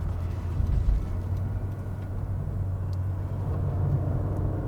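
A Honda City Hatchback RS drives through sharp, fairly fast turns, heard from inside the cabin as a steady low engine and road rumble with no distinct events.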